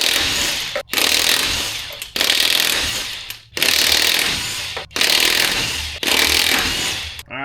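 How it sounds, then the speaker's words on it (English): An impact wrench removes lug nuts from a Ford F-150 4x4 in several loud, rattling bursts of one to one and a half seconds each, separated by short pauses, with no talk. "we should be done with the impact until assembly time"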